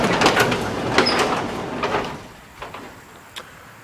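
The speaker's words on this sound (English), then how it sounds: "I'll go ahead and open the door so we can see." The door of a shed housing John Deere mowers and garden tractors slides open with a rolling, rumbling scrape lasting a couple of seconds, then a few lighter knocks and rattles as it settles.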